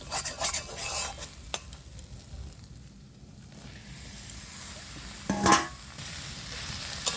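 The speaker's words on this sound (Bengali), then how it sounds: "এই চিচিঙ্গার আলুটা দিয়ে আমি মিনিট 5 কষিয়ে নেব" Snake gourd and potatoes are stir-fried in spiced masala, a utensil scraping and stirring in the pan over a soft, steady sizzle, with brief clinks of metal, close and without speech.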